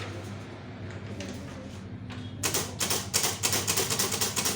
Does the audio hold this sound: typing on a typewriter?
yes